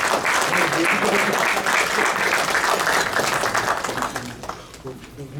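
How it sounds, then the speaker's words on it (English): Another round of crowd applause at a community talent event, thick and steady clapping that gradually thins and fades, with a voice speaking over it. "Another round of applause."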